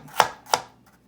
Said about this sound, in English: We also have just some baby carrots here, and you can see just slices